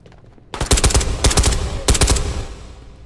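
Gunfire from the VR shooter Ghosts of Tabor, loud close bursts of rapid automatic shots in three quick volleys, each a dense string of sharp cracks.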